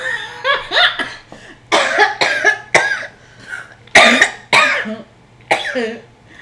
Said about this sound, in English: let me stop coughing